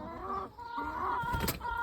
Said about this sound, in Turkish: o biraz sinirli bir tavukmuş